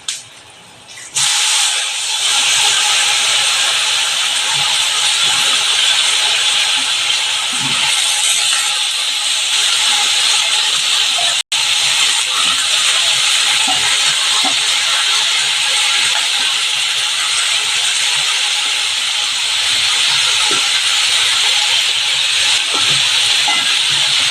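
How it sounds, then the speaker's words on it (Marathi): Cooking bananas drop into hot spiced oil tempered with green chillies and asafoetida, setting off a loud, continuous sizzling hiss close up that runs steadily after a brief quiet start. "आता आपण ही केळी त्याच्यावर फोडणीला टाकणार आहोत"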